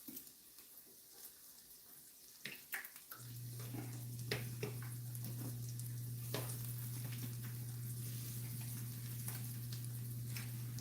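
A frittata hits a hot pan and breaks into a loud, steady sizzle that carries on unbroken, with a low hum underneath and occasional clicks and clatters on top.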